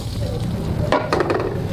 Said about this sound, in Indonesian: Tuang bawang selalu.